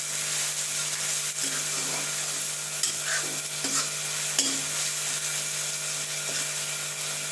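Spinach and egg being mashed and stirred with a spoon in a hot wok, a steady sizzle running throughout with soft scraping clicks and taps at irregular intervals, close and moderately loud, no voices.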